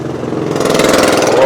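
A boat engine hums steadily nearby at a seafood wet market in Hagonoy, its pitch rising slightly as it runs, with no talking.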